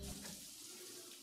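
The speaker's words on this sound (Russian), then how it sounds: "включить воду" Shower water running in the game Cyberpunk 2077, a short, steady gush of splashing water, quiet and continuous.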